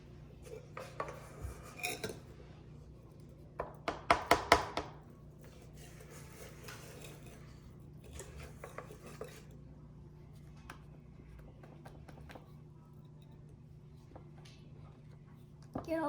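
Banana bread batter scraped from a mixing bowl into a baking pan with a utensil, giving soft scraping and a few sharp clinks against the dish, fairly close, with quiet talk at times.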